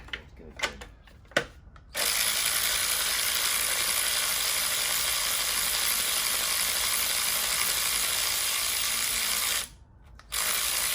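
A ratchet with a deep socket works bolts loose on an Infiniti G37 during a flex-fuel kit install. A few sharp clicks come first, then a long, loud, steady rasping run that breaks briefly and resumes.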